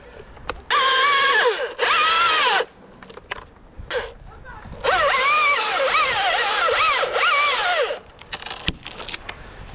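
A saw cutting through a cedar branch during tree removal, revving in two short bursts and then one longer sustained run, its pitch rising and dipping as it bites into the wood, fairly loud and close.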